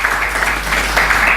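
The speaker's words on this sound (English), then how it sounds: "I think we can also give them a big round of applause" Short burst of conference audience applause, dense and fairly loud, many hands clapping at once.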